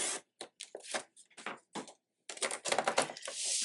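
Paper being cut for a junk journal, heard as a close series of short, crisp snips and slicing bursts in an uneven rhythm, with brief pauses between cuts and a longer run of cutting near the end.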